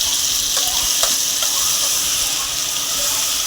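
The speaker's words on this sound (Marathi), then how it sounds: "मसाला ॲड केला, थोडा तेलामध्ये तळू दिला." Spice masala sizzles and fries steadily in hot oil in a kadai, a loud, continuous hiss with faint stirring clicks, no voices.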